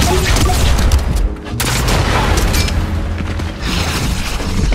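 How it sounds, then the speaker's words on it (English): A shotgun fires rapidly in a video game, with dense booming blasts and mechanical clatter crowding together loudly and continuously, with only a short dip between volleys. "Right when I was about to leave, I started going crazy with a shotgun."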